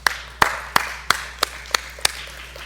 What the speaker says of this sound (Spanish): Y eso merece un aplauso para el Señor.